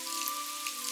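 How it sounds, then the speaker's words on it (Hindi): Heavy rain falls at night in an animated story, a dense steady patter with a faint constant tone beneath it, brief and fairly loud. "एक रात जोरों से बारिश शुरू हो जाती है।"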